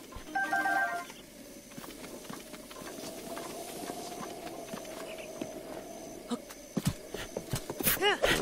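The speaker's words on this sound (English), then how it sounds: "8 foot tall horse Link just doesn't know how to ride this thing." Horse hooves in The Legend of Zelda: Breath of the Wild, a quiet clip-clopping gait under game music and effects, with a sustained tone and sharp clicks near the end, faint and close.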